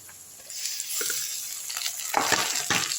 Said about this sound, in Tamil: வெங்காயம் நல்லா சாஃப்டாக ஓரளவுக்கு நல்லா வதக்கி விட்டுருங்க.